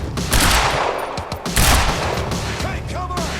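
Dense bursts of rapid gunfire and impacts in the action video game Quantum Break, loud and close, with overlapping shots and booms filling the whole stretch.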